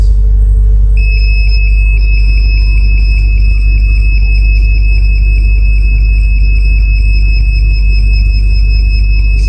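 A homemade smart smoke and gas detector alarm, set off by gas released near its sensor, beeps a steady high-pitched tone over a loud, constant low rumble, with no talking.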